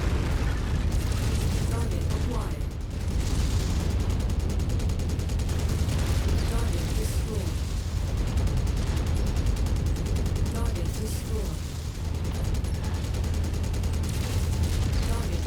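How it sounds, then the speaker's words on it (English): Dense, continuous explosions and gunfire from a MechWarrior 5: Mercenaries mech battle fill the whole stretch, loud and layered with rumbling blasts and rapid weapon fire. "I can't even see what's going on. So many explosions."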